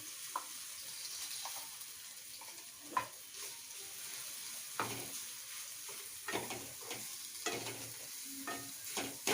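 Ground green chilli and raw peanut paste sautéing in a pan, with a steady sizzle and repeated scraping stirs of a spoon against the pan, close and fairly quiet with no talking.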